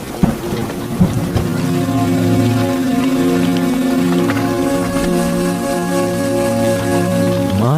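Heavy rain pours down in a dense, loud, constant hiss, with thunder rumbling through it and a sustained tonal backing underneath.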